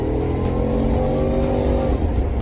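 A Ford XR8 accelerates hard in first gear, its V8 engine giving a loud, steady rising roar from inside the car with no talk over it.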